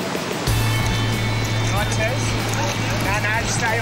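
Ocean waves at Bondi Beach break and wash in a steady, loud roar of surf, with a low engine drone running underneath and voices talking over the water.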